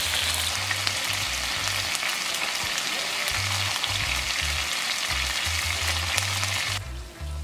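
Chicken pressed under a weight sizzles steadily in a hot pan for taco chicken with taco seasoning, a constant close frying hiss with a low intermittent hum beneath, no one speaking.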